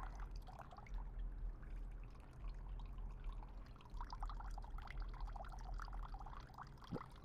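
Soft, continuous pouring and trickling of water close by over a potted orchid in moss, with a few faint drips toward the end.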